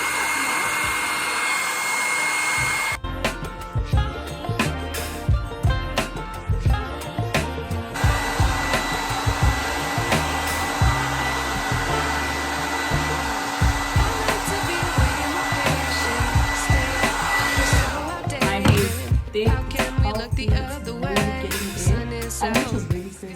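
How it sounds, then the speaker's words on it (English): Handheld hair dryer blowing steadily while hair is dried after a rice water treatment, a loud continuous whooshing roar with brief pauses and shifts in pitch as it is moved about. "All I need to do now is just like blow dry my hair."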